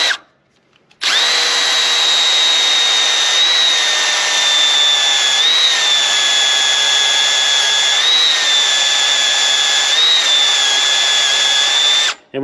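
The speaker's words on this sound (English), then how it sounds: "when you drill a bigger hole like this, it's always best to use a smaller drill bit" A power drill bores a bigger hole for a trailer jack in a steady, loud, continuous whine of roughly eleven seconds with slight pitch dips, close up, then stops abruptly.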